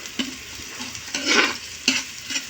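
Octopus adobo in coconut milk sizzles in a pan and is stirred, with a few sharp utensil scrapes and bursts of frying rising over a faint steady background.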